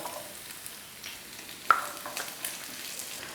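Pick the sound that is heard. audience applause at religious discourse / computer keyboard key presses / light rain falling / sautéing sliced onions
sautéing sliced onions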